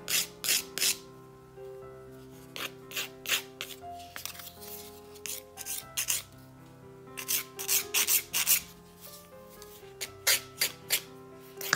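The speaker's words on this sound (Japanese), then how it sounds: "ちょっと触りながら確かめながら削っていきます。" Nail file working a gel nail up close: soft, quiet rasping strokes in short bursts and clusters, with pauses between them.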